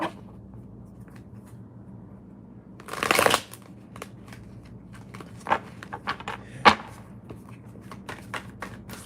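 Tarot cards are riffled in one loud burst, followed by scattered soft flicks and taps of cards being handled close up in a quiet room with a faint low hum.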